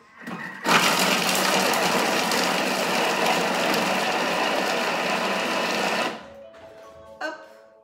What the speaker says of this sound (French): on va mettre le couvercle, le gobelet doseur et on va venir mixer pendant 5 secondes à la vitesse 5